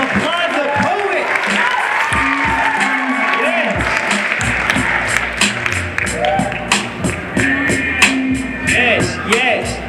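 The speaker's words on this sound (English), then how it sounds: "Give it up, applaud the poet." Audience applause for a poet at a 9th grade school poetry slam, claps and cheers rising over scattered voices and thumps, with a host's voice briefly audible amid the crowd noise.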